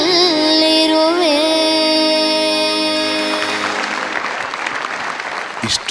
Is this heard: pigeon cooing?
no